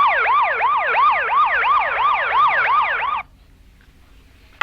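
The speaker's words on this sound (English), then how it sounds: "I forgot about the Banaka that made the siren noise." A film siren sound effect wails in fast, repeating rising-and-falling sweeps, loud and close, for about three seconds before cutting off abruptly into quiet room tone.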